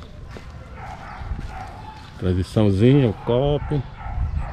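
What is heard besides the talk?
dogs barking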